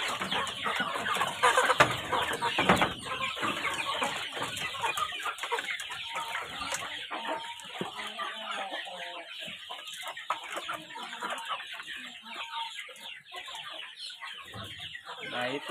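Free-range village chickens cluck in a coop, a continuous mix of close and farther clucks and squawks from several birds with some background noise.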